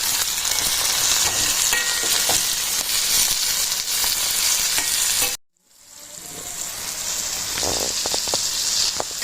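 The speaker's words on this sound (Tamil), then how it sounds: "இப்போ நல்லா சின்ன வெங்காயமும் தக்காளியும் நல்லா வதங்கிருச்சு" Small shallots and tomato sautéing together in a pan for a meat intestine curry, a loud, dense sizzle with stirring scrapes, cutting out abruptly for a moment before the frying hiss resumes and builds again.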